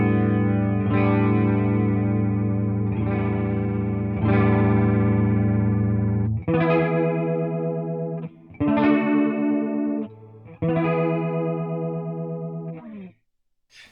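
An electric guitar chord sequence runs through an Electro-Harmonix Small Clone chorus pedal as the sweep speeds up, its shimmering warble growing more intense across six sustained strums, loud and alone before cutting to silence.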